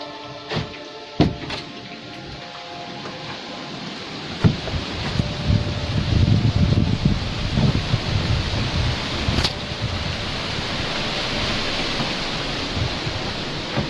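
Heavy rain and strong wind outdoors make a dense, steady wash of noise, broken early by a few sharp knocks and bangs and growing louder and gustier midway.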